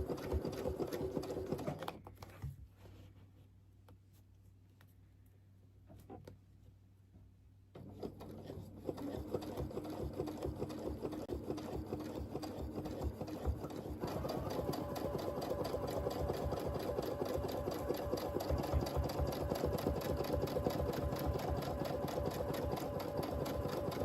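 Sewing machine stitching a churn dash mini quilt, heard up close as a steady rhythmic whir that pauses briefly, slows, then runs long and continuous at a faster pace, with no talk.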